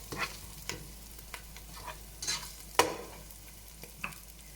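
Chopped onions softening in a hot pan for a minced-meat rice and peas dish, with a steady quiet sizzle broken by several sharp scrapes and clacks of a spoon stirring, no voices.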